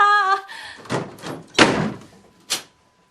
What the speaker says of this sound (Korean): 장은 문을 닫고 잠가버렸다.